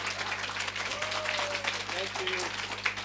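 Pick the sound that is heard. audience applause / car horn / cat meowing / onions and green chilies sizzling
audience applause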